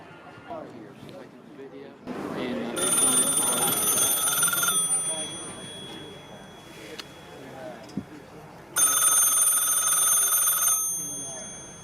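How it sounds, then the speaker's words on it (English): A 1946 Bell System car phone rings in two long, loud, bright bell bursts separated by a quieter gap, with room noise and faint handling sounds between them. "you could actually call this phone, and it would ring"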